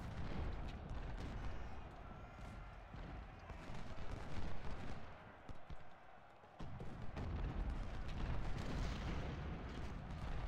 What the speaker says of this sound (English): it looks like they're shooting now